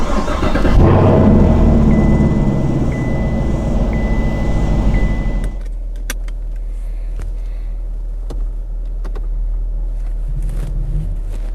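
An HSV-built Chevrolet Camaro starts up with a loud, full-bodied engine roar that holds for several seconds, then drops to a low, steady rumble with faint clicks as it pulls away.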